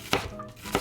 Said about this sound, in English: Cut off the root of the green onion.